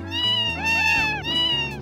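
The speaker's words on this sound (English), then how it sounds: "the Savannah Cat is in fact considered a domestic cat" A Savannah cat, a domestic hybrid breed, gives three loud, close, drawn-out meows in quick succession, each rising and falling in pitch, with no other sound.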